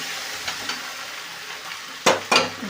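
Boiled chickpeas and peas stirred through a pan of frying spices for ghugni, a steady soft sizzle with two sharper scraping stirs near the end, close and fairly loud.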